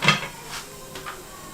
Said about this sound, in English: Then I'll leave it for a few minutes as I put a cover on it.